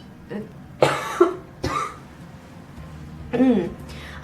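Several sharp, close coughs, three or four bursts separated by short pauses, with a little breathy vocal sound between them.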